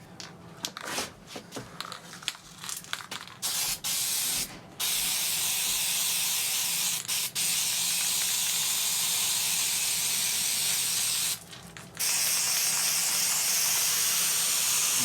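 Aerosol spray hisses onto a sagging headliner sunshade in a 2005 VW Passat GLS 1.8T, starting with short bursts and then holding long continuous blasts, loud and close.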